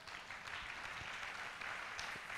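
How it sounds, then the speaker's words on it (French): Church congregation applauding and cheering for the Lord at an evangelism service, a steady wash of clapping with a few louder claps, sustained throughout. "Est-ce qu'on peut acclamer pour le Seigneur?"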